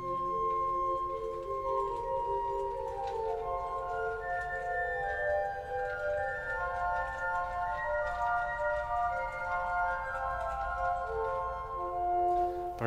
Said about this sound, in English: Four-foot by itself sounds like this.